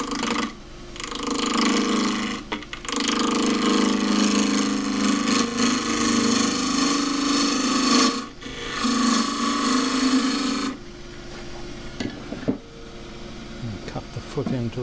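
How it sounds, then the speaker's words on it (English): A 3/8 bowl gouge with a 1/4-inch flute cuts a small square box elder bowl spinning on a wood lathe, a loud close rasping shear that runs almost continuously with short breaks, then eases to a lighter scraping. "So I'm going to come in with a 3/8 bowl gouge"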